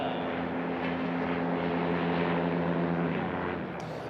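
Light aircraft fly during a STOL drag race heat, a propeller engine droning steadily at a distance with a faint whine layered over it and no talking.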